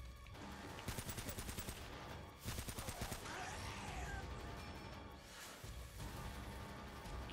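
MP40 submachine gun fire in Uncharted: Drake's Fortune (PS4 Remaster), rapid rattling bursts of automatic shots in several volleys separated by short pauses, loud and punchy amid in-game gunfight noise.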